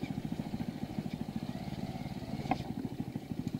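A Hero Xpulse motorcycle rides off-road over slippery soil, its engine chugging in a fast, even pulse with a faint clatter, heard steadily and at a low level.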